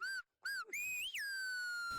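A person attempts El Silbo Gomero, the whistled language of La Gomera in the Canary Islands, producing a few loud, close whistles that rise and fall in pitch, ending in a long sustained gliding tone.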